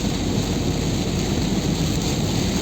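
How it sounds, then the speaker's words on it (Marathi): Heavy rain on the Lonavala ghat road, a dense, loud, unbroken broadband roar of downpour with no pauses, steady throughout. "खूप जोरात पाऊस चालला आहे लोणावळ्यामध्ये"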